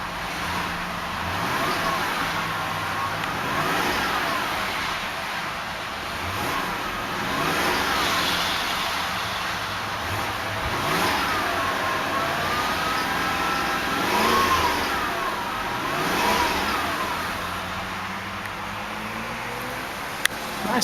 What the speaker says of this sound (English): Nice sounding engine.